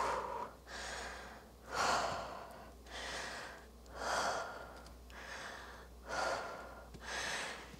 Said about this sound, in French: On reste pour 3 respirations.